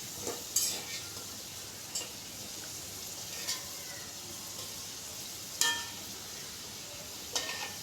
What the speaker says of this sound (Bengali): আলুগুলোকে একটু লাল করে ভাজতে হবে।